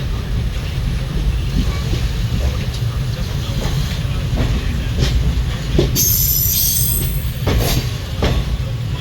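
A train arriving at Chennai Egmore rumbles past steadily on the rails, its wheels clacking, with sharp metallic squeals rising near the end.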